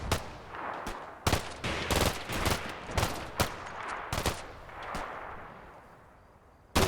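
Combat Mission: Black Sea firefight between Russian defenders and an attacking squad, with sharp rifle and automatic gunshots popping at irregular intervals, some near and loud, others softer, over a low rumbling battlefield background.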